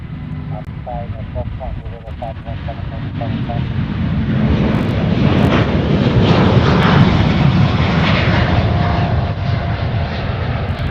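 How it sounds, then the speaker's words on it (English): A KC-130 Hercules military transport passes near an airport, its engine roar building from a steady drone into a loud, broad rumble that stays strong through the pass, with a voice heard faintly early on. "the next one behind it is that KC-130 Hercules"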